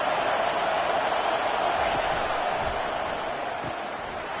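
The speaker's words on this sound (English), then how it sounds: "This crowd bringing the energy and noise early." Football stadium crowd at a game, a dense steady roar of many voices filling the whole stretch, distant and continuous with faint thumps underneath.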